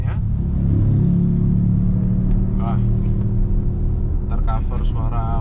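Low road rumble and engine drone fill the cabin of a Toyota Innova Zenix gasoline car as it accelerates, a steady loud hum throughout, with a person talking over it and brief higher chirps near the end.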